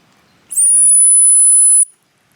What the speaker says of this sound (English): I'm gonna get my whistle ready.